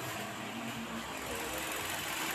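Hyundai Accent engine idling with the radiator being bled, a steady low rumble with faint knocking texture and broadband mechanical noise throughout, close by and fairly even in level.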